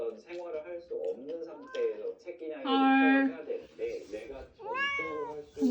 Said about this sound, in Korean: 상태가 안 좋아 보이는 새끼 고양이들 이제 구조를 했어